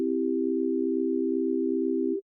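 A steady synthesizer tone holds level for about two seconds, its pitch carried through a single LFO cycle set to envelope mode, then cuts off abruptly, alone with no voice.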